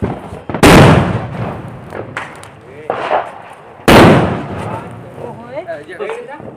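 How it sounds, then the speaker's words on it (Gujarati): A Diwali firecracker set off in a village gives two loud, sharp blasts a few seconds apart, each with a brief crackling tail, while people talk and laugh between and after. "આ તો સિંગલ ની બદલે ડબલ ધડાકા છે"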